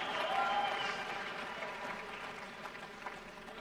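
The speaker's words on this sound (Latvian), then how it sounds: "Skatītājs sāk aplaudēt." Spectators at a sports match, where a fallen competitor is about to resume, applaud steadily in a dense wash of clapping that slowly thins over a few seconds, with voices murmuring underneath.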